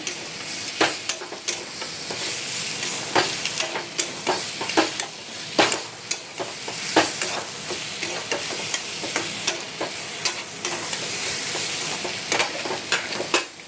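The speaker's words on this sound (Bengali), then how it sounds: "এবার নাড়বো।" A spoon stirs a little sugar into a cooking pan, with frequent sharp scraping clinks against the metal over a soft, steady sizzle, close up and rhythmic throughout.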